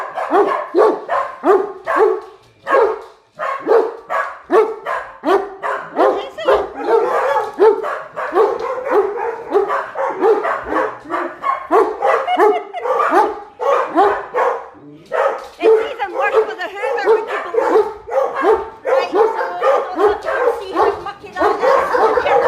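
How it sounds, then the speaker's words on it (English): Several dogs bark nonstop, loud and close, with rapid overlapping woofs, yips and the odd whimper running continuously without a break. "they have been barking the whole bloody time"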